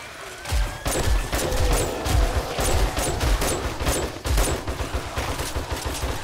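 Loud, dense gunfire from the survival game 7 Days To Die fills a horde-night fight with rapid overlapping shots and automatic bursts, continuous and close from start to finish.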